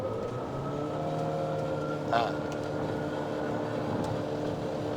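A Wuling Cortez turbo engine, heard from inside the cabin while the car accelerates, gives a low, steady droning hum with faint tonal lines and one brief swell partway through, while someone inside speaks briefly.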